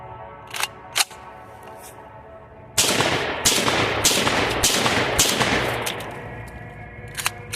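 Sharp, loud gunshots from a JTS M12AK (AK-12 T1) semi-automatic 12-gauge shotgun fitted with a muzzle brake: a few single shots, then a rapid string of blasts that echo and tail off.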